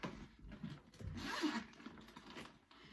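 A zipper on a tote bag's recessed closure is drawn along in a few quick, rasping pulls with short pauses, close and fairly quiet, with no talking.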